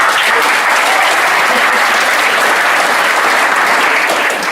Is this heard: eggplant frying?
no